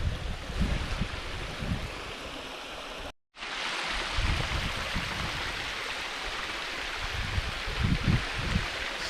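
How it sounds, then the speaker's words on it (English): Water flowing at Zebra Rock Cascades in the Wichita Mountains, a steady, close rushing wash broken by one brief silent gap, with no talk. "I never even knew water flowed underneath here."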